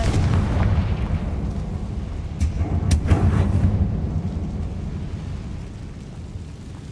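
A Confringo fire-blasting spell in Hogwarts Legacy explodes in a heavy, rumbling blast with a couple of sharp bursts in the middle, then a long, sustained roar that slowly fades.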